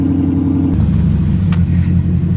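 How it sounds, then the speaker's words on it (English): A 2015 Ford Mustang 5.0 V8 runs through a carbon dump exhaust with a built-in muffler, giving a loud, steady, deep rumble at close range after a cold start, with no talking. "carbon dump exhaust with a muffler actually built into it"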